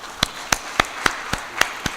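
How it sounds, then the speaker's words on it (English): At a seminar, a handful of sharp, evenly spaced claps ring out in a slow, steady rhythm, close and distinct rather than a full roar of applause. "Big applause to RK Singh."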